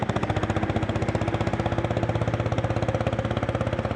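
A Lanz Bulldog tractor engine thumps along steadily at close range, each slow firing stroke distinct in a rapid, even chugging rhythm with sharp knocking backfire pops.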